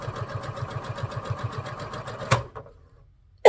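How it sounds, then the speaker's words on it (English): Sewing machine stitching a garden flag, a rapid even run of mechanical stitches heard close for about two seconds, then a sharp click as it stops and near silence follows. "so you sew on one side of that line, and then you sew on the other side."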